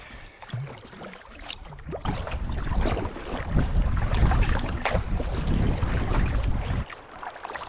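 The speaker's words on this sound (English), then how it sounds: "I'm actually paddling to the center of the universe as we speak." A canoe paddled alone on a remote wilderness lake: soft, rhythmic paddle strokes and water swishes close by, under a steady wash of wind noise, with no talking.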